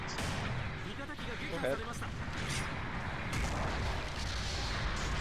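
Gunfire in the mech combat game Gundam Battle Operation 2 booms and cracks in heavy, repeated bursts over a rumbling battle din, with someone talking briefly over it.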